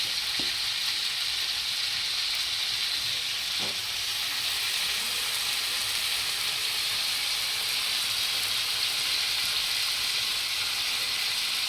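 Chicken tandoori cooks in Amul butter on a tava over a full gas flame, giving a continuous, even sizzling hiss that carries alone throughout.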